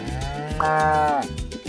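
A single loud, close cow moo swells and holds for about half a second, rich in harmonics, over steady background noise with no speech.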